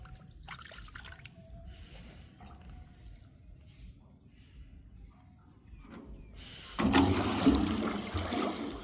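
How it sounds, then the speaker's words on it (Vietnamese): Water gushes and splashes as it drains out of a homemade ferry, a loud rushing burst starting near the end after quieter trickling and dripping. "Kéo xả nước."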